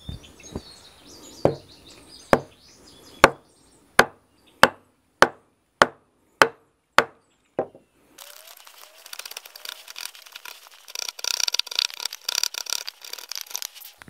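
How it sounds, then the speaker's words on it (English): Chisel strikes cutting wood along a score line on a 20-foot timber top plate for a covered bridge: about ten sharp, evenly spaced mallet-driven chops up close, followed by a busy, scratchy wash of birdsong in the background. "I'll set my chisel right on that score line."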